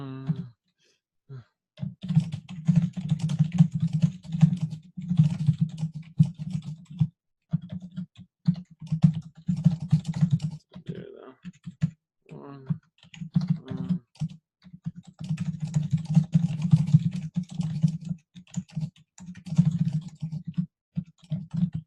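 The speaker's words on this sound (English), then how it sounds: "we're gonna let him type." Computer keyboard typing runs in steady, close bursts of rapid key clicks with brief pauses, over a constant low hum and with no talking.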